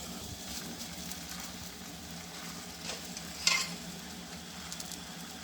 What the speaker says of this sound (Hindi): अब हम दूसरा पराठा इस पर डालेंगे।